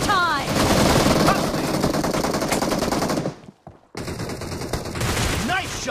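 Rapid automatic gunfire rattles in PUBG Mobile team deathmatch play: dense, loud bursts with a brief gap of near silence, then more shots resume, with a voice heard faintly alongside.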